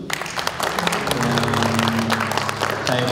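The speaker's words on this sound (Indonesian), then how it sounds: "Beri aplaus dulu." Audience at a gala dinner celebrating Kabar Makassar's 14th anniversary in Makassar applauds steadily, a dense, sustained wash of clapping filling the room, with a faint tonal hum beneath.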